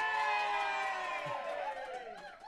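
Live crowd at the Tank hockey arena cheering for a postgame show, a diffuse roar of whoops and voices that builds then tapers off, with a voice speaking over it.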